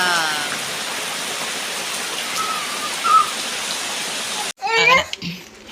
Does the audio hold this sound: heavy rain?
yes